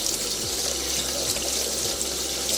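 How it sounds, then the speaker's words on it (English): Tap water runs steadily into a pot of rice being rinsed at a kitchen sink, a close continuous splashing stream with faint swishes, no speech. "And then we're gonna clean our rice"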